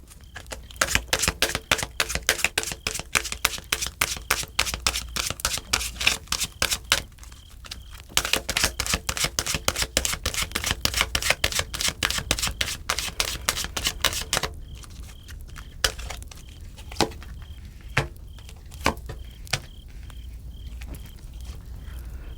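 Tarot cards riffled and shuffled by hand in long rapid bursts of crisp flapping clicks, close and loud, then slower isolated snaps as cards are drawn, with no talking.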